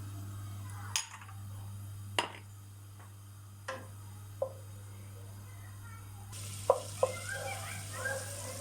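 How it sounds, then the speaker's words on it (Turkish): Oil and butter heat in a pan while Kayseri-style yağlama is cooked. A few faint clicks sit over a low hum, then a soft, close, steady sizzle rises near the end. "Şimdi ocağımın altını yaktım. Hemen sıvı yağımı ekliyorum. Tereyağımı ekliyorum."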